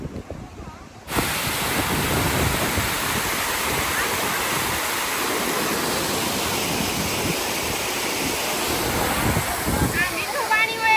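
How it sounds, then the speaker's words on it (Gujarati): A waterfall at a village farm roars steadily and loudly from close by, a dense continuous rush of falling water that fills the whole scene. "અહીં ધોધ જોવો ધોધ કેવો પડે ને ઈ"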